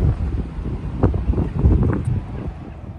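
Steady wind buffets the microphone with low rumbling gusts in a weedy side yard during spring hydrangea pruning, a continuous roar and no one speaking.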